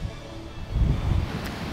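Sea waves at Punta Sur roll and wash against the shore, a steady low surf swelling midway, with some wind rumble on the microphone and no talk.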